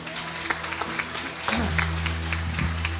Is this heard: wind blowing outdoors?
no